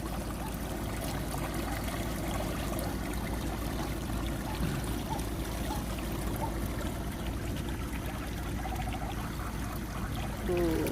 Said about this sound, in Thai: น้ำไหลแรงค่ะ